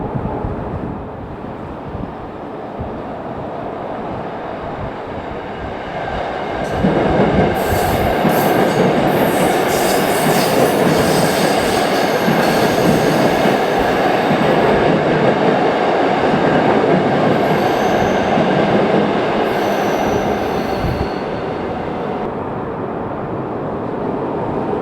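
South Shore Line deadhead train equipment rolling toward Hammond Yard on the Monon corridor, a steady loud rumble of rail cars that swells after a quieter start, with a hiss of wheels on track and some wind on the microphone.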